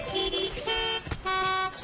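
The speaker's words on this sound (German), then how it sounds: "Ey, lass die immer so viel hupen, das ist Lärmbelästigung immer noch." Car horns honking in a Paw Patrol video game, several bright sustained toots in succession with short gaps between them, loud and close, with game sounds underneath.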